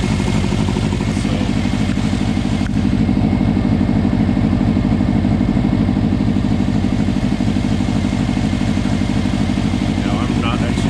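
Car engine idling while warming up during a block tester check for a bad head gasket, a steady loud rhythmic idle that continues evenly throughout.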